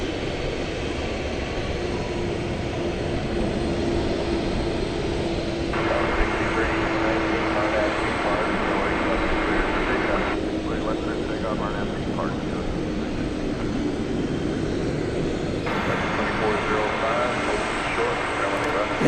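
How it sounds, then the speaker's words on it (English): An MD-11 jet airliner takes off from the west side at DFW Airport at night, a steady, loud broadband engine roar that holds throughout with shifting intensity. "looks like we've lucked into another west side takeoff for the beloved MD-11"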